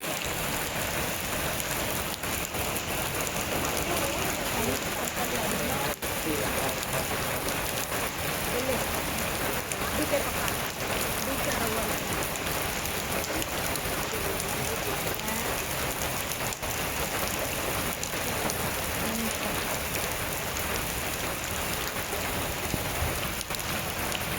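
Steady heavy rain pours down without a break at Cubbon Park, Bengaluru, a dense continuous hiss of drops drumming on surfaces, close and loud throughout.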